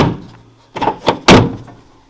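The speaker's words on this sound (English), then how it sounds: "now this door closes really nicely" A van door is swung shut, a few quick thumps and rattles as it moves and latches, ending in one solid, loud close with a short fade after.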